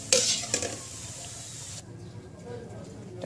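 Mixed pakoras frying in hot oil, opening with a loud sizzling burst and a second spurt, then settling into a low, steady hiss with a voice faintly underneath.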